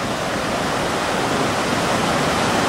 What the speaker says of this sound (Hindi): दूर से जो आप लास्ट गए थे वहाँ से पानी बहता आ रहा है।